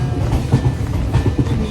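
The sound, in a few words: fast moving passenger train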